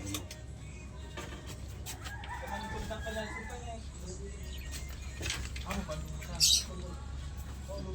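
Chickens cluck and call nearby, a rooster crowing among them, while people talk over the birds and a sharp high squeak pops up briefly.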